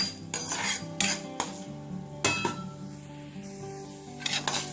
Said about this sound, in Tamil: இதை கொஞ்சம் செவக்க வறுத்துக்கோங்க